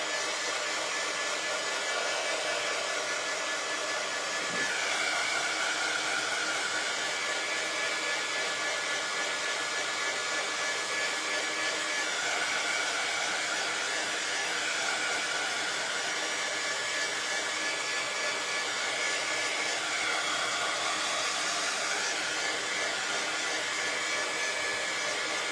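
A hair dryer blows steadily and continuously at close range while drying a painted bird shelf sitter craft, with a constant whooshing whir.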